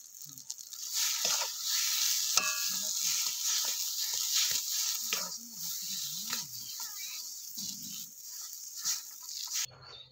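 Ground peas tipped into a hot pan of fried tempering, giving a steady close sizzle and frying hiss with scraping and stirring clinks throughout, a voice talking over it.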